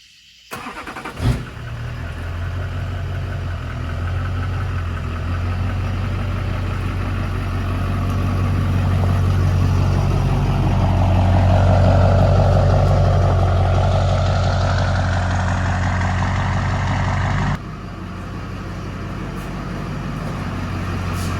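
A Duramax diesel truck cold starts with an abrupt crank and catch, then settles into a loud, steady diesel idle close by that swells slightly, rumbling alone without voices.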